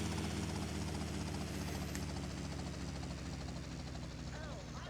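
A helicopter rotor in GTA Vice City thrums steadily and loudly throughout, its low chopping pulse continuous with engine whine over it.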